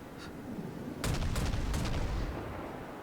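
Naval gun salvos from a ship in World of Warships, heard as a rapid cluster of about four or five booming shots over roughly a second, loud and close, with a rumbling tail dying away afterward.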